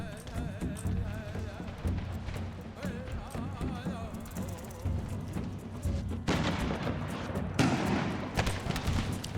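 Battle gunfire from Empire: Total War with an American Civil War mod: dense volleys of musket shots and dull booms crackle on and off, swelling into heavier bursts near the end under a steady background din.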